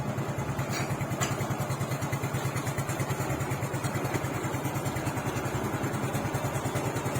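Repaired motorcycle engine idling smoothly after a kick-start, a steady, even rapid putter at close range running alone with no voices over it.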